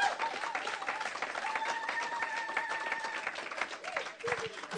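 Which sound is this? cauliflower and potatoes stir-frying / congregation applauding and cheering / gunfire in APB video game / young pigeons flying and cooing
congregation applauding and cheering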